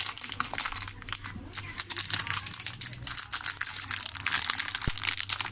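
Close crinkling and crushing of Epson EcoTank ink bottle packaging being cut open for an Epson L3110 refill, with continuous rustling scrapes and a single sharp tap near the end.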